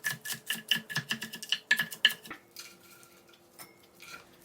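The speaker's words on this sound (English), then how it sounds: "So we're gonna chop this up first." Lettuce being chopped for a hot wing chicken salad, a rapid run of close knife strikes against a cutting board that slows and fades into quieter handling sounds.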